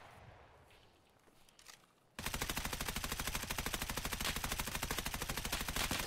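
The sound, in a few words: suppressed gunshots in the video game Escape From Tarkov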